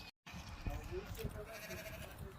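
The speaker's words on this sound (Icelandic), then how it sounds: "I takie malutkie owieczki." Little lambs bleat faintly on a farm in Keflavik, short soft cries heard under people talking nearby.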